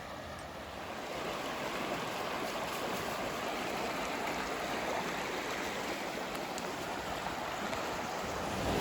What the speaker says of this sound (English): So here's some really nice rapids along Otter Creek